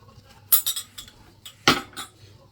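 A spoon clinks against a cup or glass while Nescafé coffee mixture is whisked into whipped cream for a mocha, giving two close bursts of quick metallic taps separated by a short pause.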